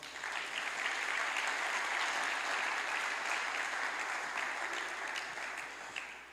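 A church congregation applauds, producing a steady, broad wash of many hands clapping together that holds evenly for several seconds before tapering off.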